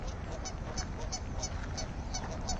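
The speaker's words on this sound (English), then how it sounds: "the duck is having some issues over there with the other duck" Ducks squabble outdoors near a hiking trail, giving a rapid, continuous run of loud, nasal honks over a dense background wash.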